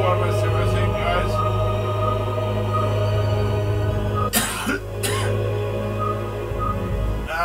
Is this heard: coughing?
yes